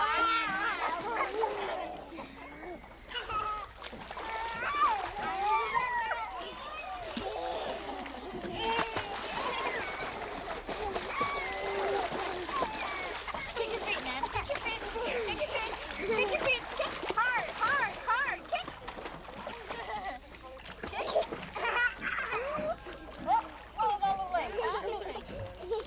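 People kick and splash in lake water, with irregular splashes and churning bursts throughout while several voices, including children, talk and call out over the water.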